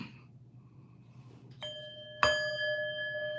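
A meditation bowl bell is struck once, a sharp attack followed by a sustained, clear ringing tone that hangs and slowly decays; a softer earlier ring precedes it over a quiet room hum.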